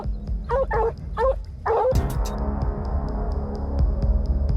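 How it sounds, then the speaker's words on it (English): Blue-tick coonhounds and Plott hounds on a mountain lion hunt give several quick barks and yips, then a louder burst followed by a steady low throbbing hum with faint repeated clicks. "primarily uses blue-tick coonhounds and plot hounds, breeds renowned for their tracking abilities and relentless pursuit"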